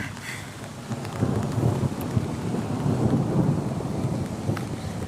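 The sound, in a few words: thunder during a severe thunderstorm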